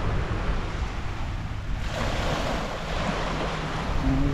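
Steady wash of surf rolling onto the beach at Mission Bay, Auckland, with wind buffeting the microphone throughout and no voices.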